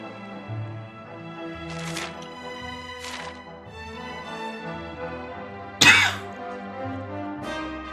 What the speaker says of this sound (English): I hate having coughs.